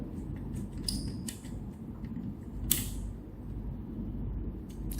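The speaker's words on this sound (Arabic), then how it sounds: "مثل ما احنا شايفين مشيت البرغي انا هلا." A screw is turned into a laptop base, giving small creaks and scattered mechanical clicks over a steady low rumble of background noise, with one sharper tick partway through.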